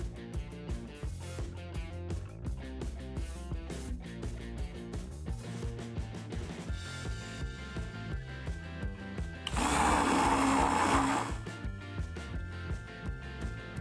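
An electric mixer whips egg whites with powdered sugar in a brief, loud, steady whirring burst of about a second and a half, heard over continuous background music.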